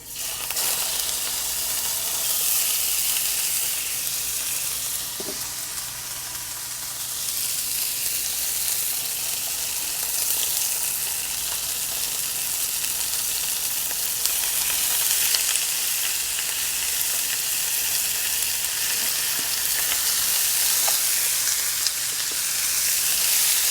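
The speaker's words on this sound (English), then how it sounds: "So basically what we're doing here is just browning the meat." Stew meat browns in cooking oil in a hot pan, giving a continuous, fairly loud sizzle and frying hiss close by with occasional faint stirring clicks and no talking.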